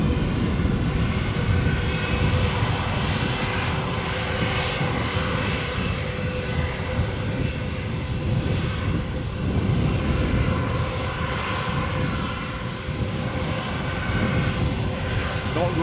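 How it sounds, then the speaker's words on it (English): An airliner taxiing out at Edinburgh airport, a continuous loud jet engine roar and whine holding steady throughout, with a voice speaking over it. "Nice and steady taxiing out."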